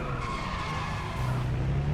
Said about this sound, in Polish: Specjalnie zarzuciłem, ale ogólnie jest ciężkie auto w sterowaniu.